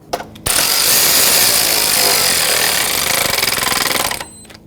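Power tool, likely an impact or ratchet driver, snugging the battery hold-down bolt on a 2006-2010 Hyundai Sonata 2.4L, a loud close whirring buzz running about four seconds after a short click, ending abruptly.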